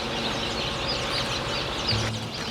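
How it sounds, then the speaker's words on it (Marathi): A duck quacks briefly over a busy background of faint bird calls and rustling at a poultry farm and hatchery, one short nasal call standing out near the end. "बदक आहे ती"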